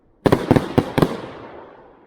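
Finale from an old Klasek STORM angled fireworks launcher: four sharp, loud booming bursts about a quarter second apart, each ringing out, then a long fading echo tail.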